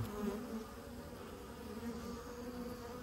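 A steady insect buzz hums continuously, fairly faint and close, with several bees droning together inside a hive being removed, and no voices.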